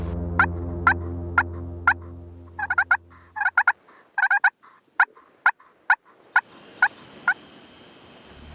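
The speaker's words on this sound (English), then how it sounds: "That turkey just come out and is feeding." A wild turkey gobbles repeatedly over plowed farm ground, loud rattling bursts in quick series with short pauses, some doubled, ringing out clearly with no talk.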